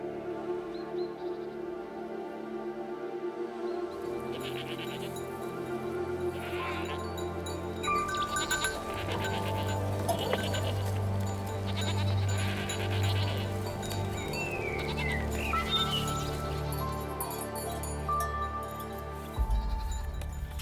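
Goats and sheep on the slopes of Mount Etna bleat repeatedly outdoors, several calls overlapping at moderate distance over a quiet rural background.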